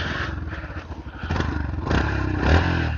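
A Yamaha FZS version 4 motorcycle engine runs close by, a steady low idle that swells into two short revs before settling back.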